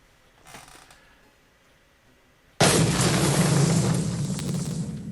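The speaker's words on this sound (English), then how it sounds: "It's an implosion, not an explosion." A synthesized explosion effect from a C++ program goes off abruptly after a quiet stretch, a loud broadband blast that holds as a sustained roaring rumble to the end, with no voices.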